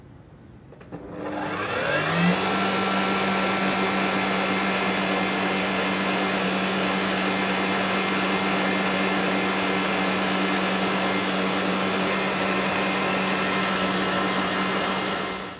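An electric stand mixer whips meringue with caster sugar added spoon by spoon, rising from a soft start into a loud steady whir that holds close and even throughout with no talking.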